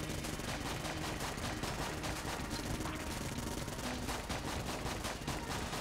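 Dense rapid gunfire from the twin-stick shooter Enter the Gungeon, a continuous barrage of overlapping shots and bursts layered over game music at a steady loud level.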